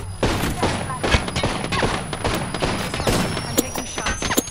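Dense, continuous gunfire from a video game firefight, sharp shots crackling in rapid bursts over a steady roar of battle noise, loud and close throughout.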